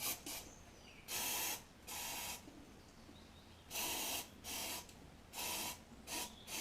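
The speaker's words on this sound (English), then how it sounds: "I'm going to go hit this with the last of my brake cleaner to get rid of the swarf." Bursts of brake cleaner spray hiss from an aerosol can, clearing metal swarf from freshly cut splines on a Mazda RX8 EV conversion part, seven or eight short close sprays separated by brief quiet gaps.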